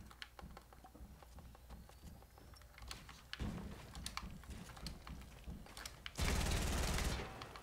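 Video game gunfire crackles as a series of sharp rapid shots, ending in a loud sustained blast of fire, with clicking and clattering in between.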